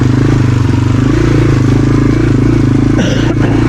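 Yamaha TW200 motorcycle engine droning steadily while riding, a continuous loud low rumble with a brief clatter near the end.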